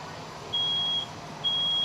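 Two sharp, high-pitched electronic beeps, each about half a second long, sound from a household smoke alarm during a fire department sprinkler demonstration, over a faint steady hum.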